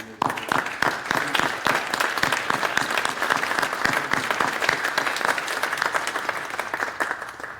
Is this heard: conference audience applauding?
yes